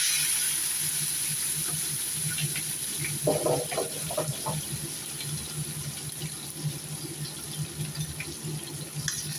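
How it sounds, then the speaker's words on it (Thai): Chinese liquor is poured into a chicken wing marinade, a quiet steady liquid trickle over a constant background hiss, with a few brief louder splashes partway through. "ก็จะใส่เหล้าจีนเข้าไปค่ะ"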